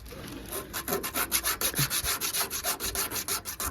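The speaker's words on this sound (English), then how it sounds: "just a little bit of sandpaper" Sandpaper rubbed by hand over surface rust and original paint on a Karmann Ghia dashboard makes rhythmic back-and-forth scratching strokes, close and fairly quiet, with no talking.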